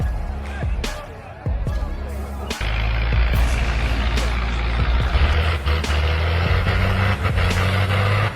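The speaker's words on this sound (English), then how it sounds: "Oh, a truck loaded with wood is going up a slippery slope." A heavy truck loaded with wood labors up a slippery slope, its engine rising to a loud, sustained low roar after a few knocks and clanks, with people talking over it.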